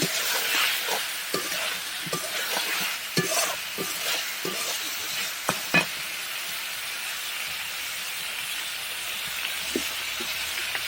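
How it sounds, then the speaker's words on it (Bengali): Shing fish bhuna with tomatoes is stirred in a pan, a continuous hissing sizzle with repeated scraping strokes of the spoon during the first six seconds, then steady frying alone, close and without talk. "বেশি নাড়বো না এই তো এক মিনিটের মতো নাড়বো"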